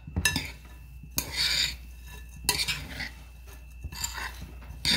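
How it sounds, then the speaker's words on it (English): A spoon scrapes and stirs through a seasoned hashbrown casserole mixture for taco casserole in a bowl, with soft repeated scraping strokes, close up and fairly quiet. "I'm going to stir this up."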